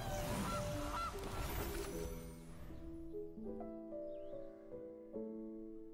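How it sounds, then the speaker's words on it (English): A goose honks from the Gilded Goose card in a digital card game, a short series of nasal honking calls after a loud burst, moderately close and without speech over it. "Behold, my goose! Gilded!"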